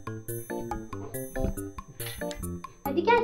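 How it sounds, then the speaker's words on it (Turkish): A doorbell rings at the door during children's toy play, heard as a series of bright ding-dong chime tones mixed with music-like ringing, fairly clear and close. "Ah, kapı çalıyor."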